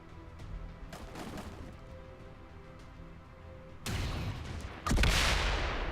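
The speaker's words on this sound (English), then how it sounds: "Okay, so the explosion did..." Explosion in XCOM 2: scattered sharp cracks and thuds give way to a loud burst and a second, heavier blast near the end, close and with no talk.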